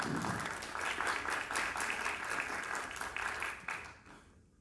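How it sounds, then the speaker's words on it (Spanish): Sustained applause from the audience at a political constitutional debate forum, steady and fairly loud for several seconds before tapering off at the end. "Un fuerte aplauso nuevamente,"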